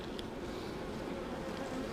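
Honey bees buzz steadily during a spring hive inspection, a dense, continuous close-up drone of many bees with no talk.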